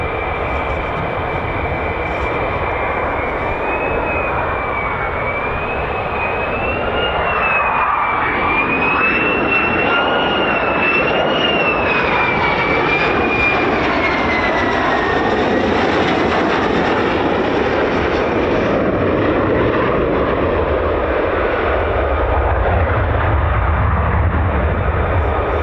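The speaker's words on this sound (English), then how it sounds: "there's even more F-35s that I can hear just taxiing now" F-35 fighter jets taxi at RAF Lakenheath, a US Air Force base, giving a loud, continuous roaring rumble with a high whining tone that rises and falls. The noise holds steady for about twenty-five seconds with no voices.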